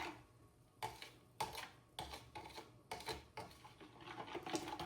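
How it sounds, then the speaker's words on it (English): A spoon stirring sugar into kombucha tea, with a steady series of faint clinks and scrapes against the vessel about twice a second, quiet and close, with no talking. "add the sugar. And we stir"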